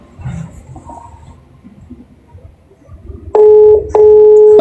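A phone call ringing back through a handset on a live-camera call, two loud steady ring bursts near the end after quiet background murmur.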